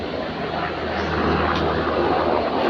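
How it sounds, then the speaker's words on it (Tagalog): A helicopter passes overhead outdoors in a garden, a steady, loud, broadband engine and rotor drone that holds evenly throughout without a break. "Helicopter yan."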